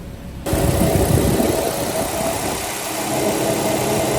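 A 2013 Kia Soul engine starts abruptly and settles into a steady, close idle after a thermostat replacement, a continuous low rumble with faint vibration and no talk.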